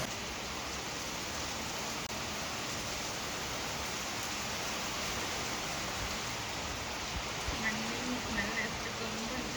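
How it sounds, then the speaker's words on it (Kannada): Rain falls as a faint, continuous hiss, steady and unbroken from start to finish, with no voices over it. "ಮಳೆ ಬರ್ತಿದೆ"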